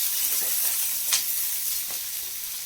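Onion and thick-cut tomato frying in a pan for veg Kolhapuri, a steady close hiss of sizzling with a few faint bursts, alone.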